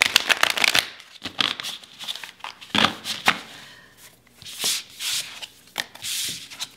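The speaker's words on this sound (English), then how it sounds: "I also like to shuffle like this." A Labyrinth tarot deck being shuffled by hand, with bursts of rapid papery riffling and rubbing separated by brief pauses, close and fairly loud, with no talk.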